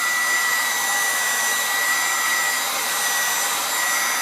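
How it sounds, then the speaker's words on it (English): Steady loud whoosh of a heat gun or blow dryer warming the glue of a vinyl decal so it can be peeled off, continuous and close with no pauses or voices. "use a heat gun in this instance, or blow dryer works great as well"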